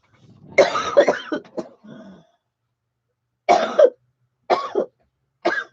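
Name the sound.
coughing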